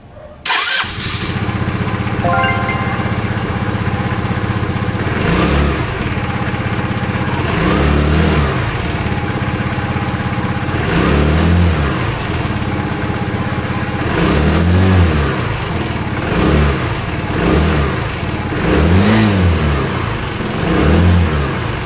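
An FKM Fyro 175 motorcycle engine revs repeatedly in rhythmic bursts, loud and close, rising and falling about every two seconds with no talking.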